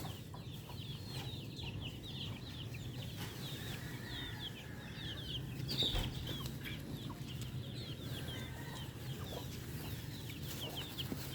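A flock of Rhode Island chickens on a small farm clucks softly and steadily in the background. Faint wing flaps and a low ambient hum run under the calls, with no talking.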